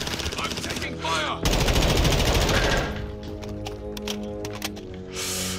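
Intense automatic gunfire in a Call of Duty DMZ firefight, dense rapid bursts loud and close, pausing briefly then resuming, with scattered sharper shots trailing off toward the end.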